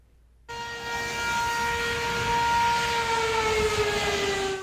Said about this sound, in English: outdoor warning sirens